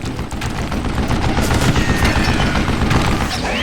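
Rapid gunfire in the Western shooter game Call of Juarez Gunslinger, dense overlapping bursts of shots and loud booms that continue without a break.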